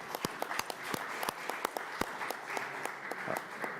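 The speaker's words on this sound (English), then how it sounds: "one more big round of applause." A conference audience gives a round of applause, with scattered individual claps sounding over a soft, fairly distant wash of clapping.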